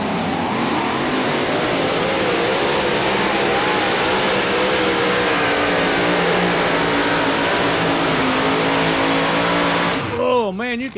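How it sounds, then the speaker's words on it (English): A pulling truck's loud engine roars steadily under high load with a rising, wavering supercharger whine on top, cutting off abruptly near the end. "you can hear that supercharger whining as it sucked the air in"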